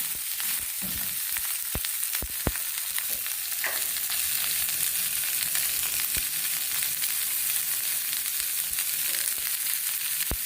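Chopped onions fry in a pan with a dense, continuous close sizzle, punctuated by sharp clicks and scrapes of a spoon stirring against the metal.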